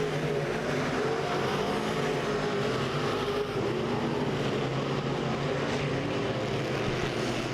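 Race cars roar around the dirt oval at Lake of the Ozarks Speedway during a heat race, a dense, continuous engine drone that stays loud and steady throughout with no break.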